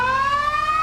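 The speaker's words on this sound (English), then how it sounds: "Well, the siren works, and I must tell you, it is loud." A loud vintage siren wails in a steady high tone with stacked harmonic overtones, sounding alone and close for under a second.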